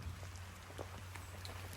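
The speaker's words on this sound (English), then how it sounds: "the rain is actually coming down pretty good now" Rain falls steadily outdoors beside a 1972 Porsche 911T being stripped down, a soft even patter with scattered drops landing on surfaces.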